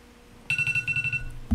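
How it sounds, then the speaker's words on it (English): Alarm ringing in Far Cry 6, a burst of rapid, bright electronic pulses that starts abruptly, repeats about a dozen times, then cuts off, fairly faint, with a thump at the end. "There's the alarm."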